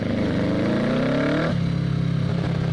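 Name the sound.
Kawasaki Ninja ER6 650cc motorcycle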